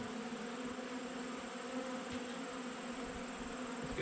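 Bees hum in a steady, soft drone around an open beehive during a hive inspection, many insects buzzing together at a modest distance with no voices.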